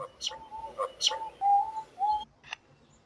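Short whistled bird-like calls, a string of clipped chirps and sustained whistle notes with quiet gaps between them, close and moderately loud, with faint background noise.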